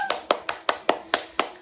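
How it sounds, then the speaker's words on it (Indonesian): A single person claps alone, about eight sharp, close hand claps in an even rhythm, with no crowd joining in. "Yuk, tepuk tangan dulu."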